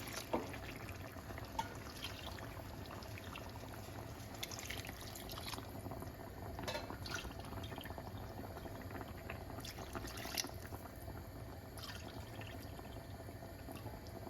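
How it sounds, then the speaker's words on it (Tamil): Water pours steadily into a pot of chicken biryani, a soft continuous splashing and trickling that lasts throughout, fairly quiet with no voices. "அதோட நாங்கள் இப்போ 4 கப்பு விட போகிறோமா தண்ணி"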